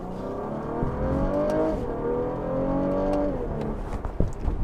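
A 2016 Cadillac CT6 engine heard from inside the cabin, pulling hard under acceleration, its note climbing steadily and dropping sharply at two quick paddle upshifts before rising again.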